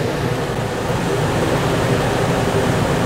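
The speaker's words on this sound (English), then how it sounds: "Let me turn the air conditioner on one more time." RV air conditioner running on a 48-volt LiFePO4 battery bank with no solar, giving a steady, loud broadband whoosh of fan and compressor noise that stays even and unbroken throughout.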